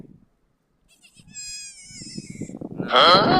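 A goat bleats clearly up close, a wavering cry, followed by muffled rustling and then a second, louder bleat at the end.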